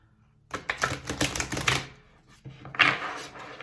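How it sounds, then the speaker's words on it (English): A large oracle card deck is shuffled up close, giving a dense run of crisp riffling card clicks, then a pause and a shorter second burst of shuffling. "This deck is so huge, it's so hard to shuffle."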